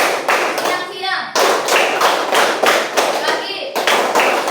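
A classroom of children clapping in a rhythmic call-and-response clapping game, a steady run of sharp, evenly spaced hand claps heard close and loud while a teacher's voice calls over them.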